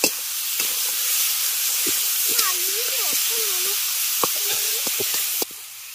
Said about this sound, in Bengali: টমেটোটাকে একটু তেলের সঙ্গে আগে ভেজে নেবেন।